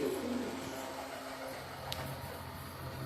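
Male flying pigeons coo in the males' section of a big loft in Panchagaon, Akola, Maharashtra: a few soft throaty coos close by, over a low steady background hum.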